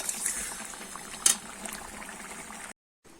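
Rupchanda fish curry gravy pours into a bowl as a soft, steady trickle of liquid with one brief splash, fairly close, before it cuts to silence.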